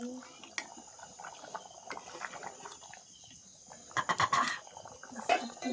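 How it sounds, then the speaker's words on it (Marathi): Red amaranth curry (amti) with ground masala and turmeric comes to a boil in a pot, giving soft irregular bubbling and small clinks, with a voice and insect chirps in the background. "मस्तपैकी उकळी येऊ दे आधी"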